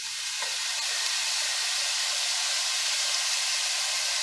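About a pound of bacon frying in a pan for peppered country gravy, giving a continuous close, loud sizzle and crackle with a faint clink near the start.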